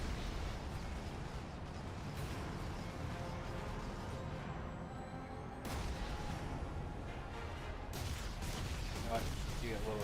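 Missiles launch and explode in the Warhammer 40,000: Space Marine video game, a dense, steady barrage of booms and blasts layered under continuous game noise and talk.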